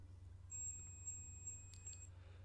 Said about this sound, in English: So this beep indicates your fuse is in working condition.